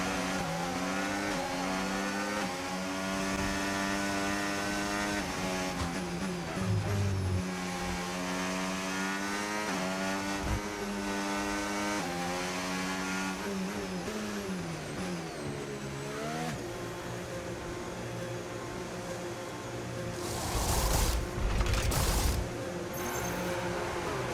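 An F1 car in the F1 25 racing game pulls away from a pit stop at the Austrian Grand Prix, its engine note rising and falling through a series of loud revving gear changes that continue steadily throughout.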